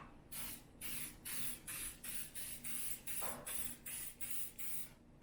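A can of cooking spray hisses onto muffin liners in a rapid series of about a dozen short bursts, close and steady, with no talking.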